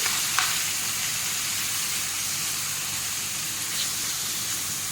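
Chicken pieces frying in a hot pan, a steady loud sizzle throughout with a couple of faint clicks.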